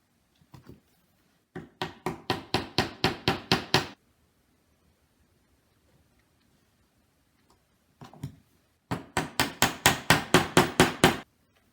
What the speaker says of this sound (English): I'm going to hammer in each peg